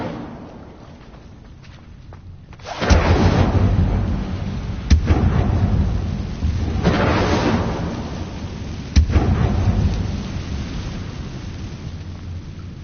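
An Incendio fire spell is cast in Hogwarts Legacy. It lands as a loud, booming burst with thunder-like rumbles, followed by repeated crackling impacts and a sustained roar across the scene.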